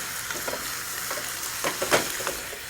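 Carrots sauté in a spicy honey glaze, a soft continuous sizzle with light scraping stirs and a few small pops, steady and close, no talk.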